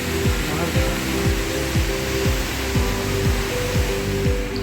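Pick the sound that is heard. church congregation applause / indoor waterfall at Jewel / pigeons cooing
indoor waterfall at Jewel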